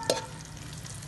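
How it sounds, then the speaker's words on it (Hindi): Raisins frying in hot ghee give a soft, steady sizzle with a brief stirring clink near the start, close and fairly quiet. "सेम जो घी है अब हम इसमें ऐड कर रहे हैं किशमिश यानी कि मेवा जो मैंने आपको दिखाया था, इसको भी अच्छे से फ्राई कर लेंगे"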